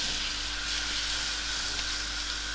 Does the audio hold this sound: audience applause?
no